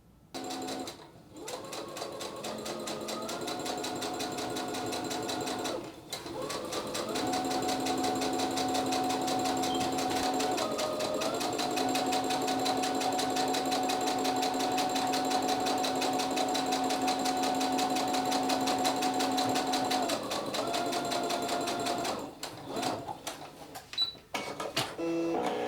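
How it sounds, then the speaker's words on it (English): A sewing machine stitching along a pressed-open seam in knit fabric, running steadily and loudly for about twenty seconds with brief starts and stops at each end. "we're going to press the seam open and stitch along both sides of it to keep it laying nice and flat"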